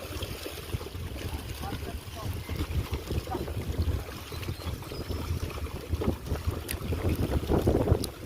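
A motorized pump boat, a Philippine outrigger, comes in across open water, its steady engine drone mixed with wind buffeting the microphone and slowly growing louder as it nears.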